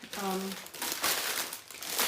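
A plastic bread bag crinkles and rustles in bursts over about two seconds, close and fairly loud, with a short voice at the start.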